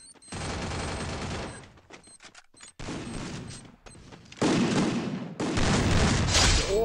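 Gunfire from the Garena Free Fire battle game crackles in loud rapid bursts, several volleys broken by short gaps, with the heaviest, densest firing toward the end; no talking is heard.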